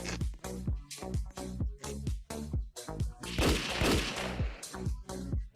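Video game gunfire, a rapid series of loud, sharp shots in quick rhythmic bursts, with a denser crackling blast in the middle, heard alone.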